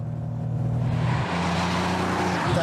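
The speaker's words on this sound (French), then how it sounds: "Tu montes à bord et hop, elle part en accélérant." A Porsche with its engine in the rear pulls away and accelerates hard, its engine tone climbing into a loud, rising roar with a hint of tire noise, close by and without talk.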